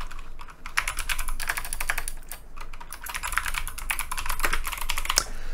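Someone types a file name on a computer keyboard: rapid, close keystrokes run almost continuously, with brief pauses between bursts.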